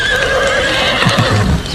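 A cartoon horse gives a loud, close whinny that wavers throughout, with a few soft hoof-like clops near the end.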